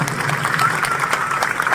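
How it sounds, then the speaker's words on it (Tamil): Parents in an audience applaud the school teachers and staff at a school function, a steady wash of clapping that fills the short stretch at moderate loudness. "எல்லாருமே சேர்ந்து இங்கே இருக்கிற ஸ்டாஃப்க்கு எல்லாருக்குமே ஒரு பெரிய கைத்தட்டல் கொடுங்க"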